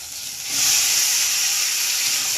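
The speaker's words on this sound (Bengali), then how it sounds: "এইবার আমি সিদ্ধ করে রাখা ঘুগনি মটর আর আলুগুলো দিয়ে দিচ্ছি" Boiled ghugni peas and potatoes hit hot oil with cumin and coriander, and a loud steamy hiss swells after a quiet start and then holds steady.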